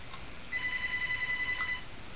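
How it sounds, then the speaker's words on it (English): A telephone rings once with a single electronic tone burst about a second long, clear and fairly close against a low background hiss, with no voices. "phone call."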